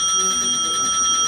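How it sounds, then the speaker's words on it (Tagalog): A small, very loud bell rings continuously with a bright, sustained tone at a live-selling stream, steady and close for the whole moment. "Guys, may bell na ako. Sobrang lakas oh."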